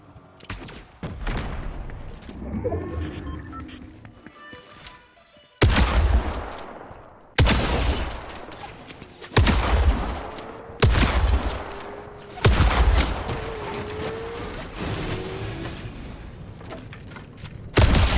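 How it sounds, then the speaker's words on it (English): Gunfire booms out in the video game Fortnite, several loud sharp shotgun blasts at irregular intervals with mechanical clatter and game sounds between them, no talk heard. "Shotgun."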